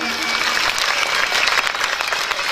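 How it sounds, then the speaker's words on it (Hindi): A devotional gathering's audience claps with both hands, a dense, continuous burst of many hands applauding together at close range. "दोनों हाथ तालियों से।"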